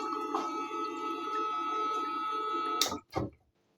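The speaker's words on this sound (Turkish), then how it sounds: "Motoru çalıştırıyorum." A home water purifier motor, in a tankless system with no waste-water hose, runs with a steady hum and faint tonal whine. It cuts off near the end, followed by a short thump.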